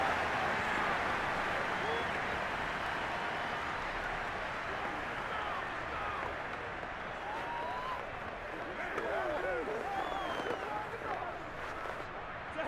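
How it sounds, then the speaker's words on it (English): A stadium crowd in the Madden 22 football video game swells with a continuous roar as a big third down approaches, while a commentator's voice talks over it. "the crowd getting into it as we come up on a big 3rd down"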